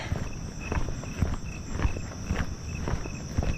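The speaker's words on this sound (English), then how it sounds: "Ooh, that's a loud cricket." A loud cricket chirps in steady pulses on a hot summer night, heard close during an outdoor walk alongside soft footsteps and faint background hum, with no talking.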